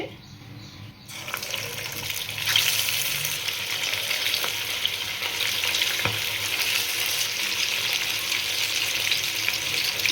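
Chicken 65 deep frying in hot oil in a kadai, a dense, continuous crackling sizzle that starts after a brief quieter moment and stays loud and close to the end.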